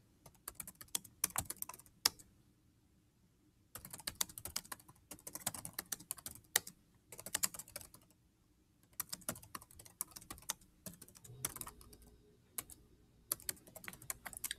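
Typing on a computer keyboard, close and steady: bursts of rapid key clicks separated by short silent pauses, with no talking.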